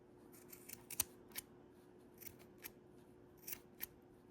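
Small scissors snip through fabric binding in a series of short, crisp cuts, irregularly spaced and close, with no talking.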